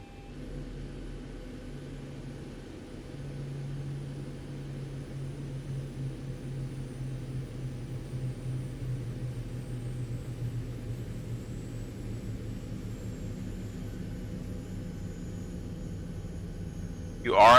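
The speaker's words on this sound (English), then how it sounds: "let's go ahead and shut the engines down" Boeing 737-800 engines winding down in the X-Plane 11 flight simulator: a steady low rumble and hum with a faint whine slowly sinking in pitch, continuous throughout.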